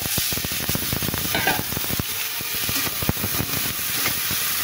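A splash of water hits a hot pan of almonds, cashews and poppy seeds, setting off a loud, dense, crackling sizzle and hiss that runs throughout with rapid spattering pops.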